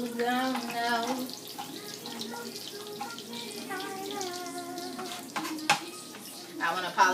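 Whiting fish frying in a pan, a steady sizzle with clattery stirring noises, moderately loud and close, running beneath someone talking.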